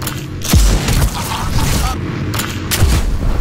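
Gunfire and booming impacts in the turn-based tactical RPG Showgunners, with two heavy low thumps standing out among sustained crackling shots and a voice talking throughout.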